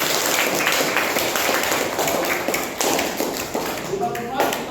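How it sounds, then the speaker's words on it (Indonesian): Students in a classroom clap their hands together, a dense, steady patter of many claps close by, with scattered voices and shuffling mixed in as the clapping runs on. "Oke, kasih tepuk tangan dulu."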